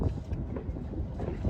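Strong wind buffets the shore at La Perouse on Botany Bay, a continuous low rumbling roar with gusty fluctuations, close and fairly loud, with no voices.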